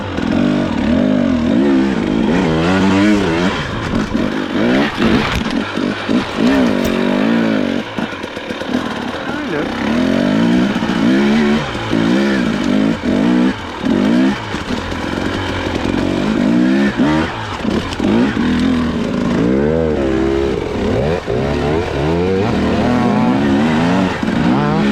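Husqvarna enduro motorcycle engine revving and spinning on a wooded single-track trail, loud and continuous with rising and falling pitch as the rider struggles to get going, a voice talking over it.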